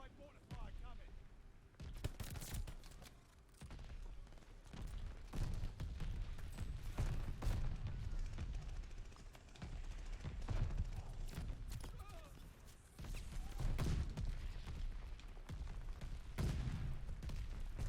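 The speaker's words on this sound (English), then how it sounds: "Allied mortar fire coming." Mortar fire in Call of Duty: Vanguard, a series of heavy booming impacts and crackling blasts scattered across the battlefield at moderate distance, with some rumbling gaps between volleys.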